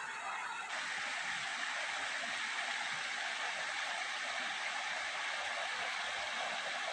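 River water rushing steadily on a winter day along the Austria–Hungary border, a dense, even roar with no pauses and no voices.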